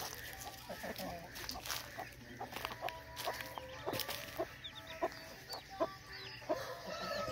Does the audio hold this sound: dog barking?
no